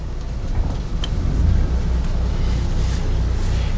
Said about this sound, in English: Here's how you start the generator.